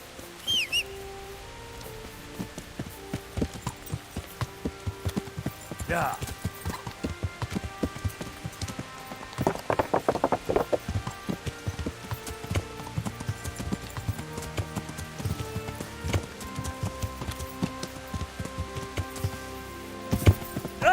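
Horse hooves clip-clop steadily in the medieval video game Kingdom Come: Deliverance. The rhythmic footfalls sound moderately close against a soft outdoor ambience with faint bird calls.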